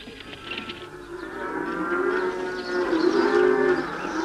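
A cow in Eber village, Afyon, Turkey, in 1970 lets out a long, drawn-out moo that swells louder toward the end, heard alone at moderate distance.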